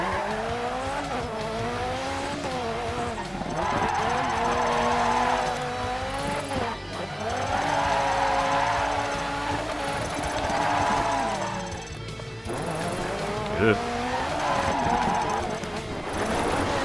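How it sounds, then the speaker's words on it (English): Rally car skidding and drifting in DiRT 3, engine revving up and down in rising and falling sweeps with tire squeal and gravelly scrabbling, loud and close, repeating over several slides. "Oh my god, this thing just skids everywhere."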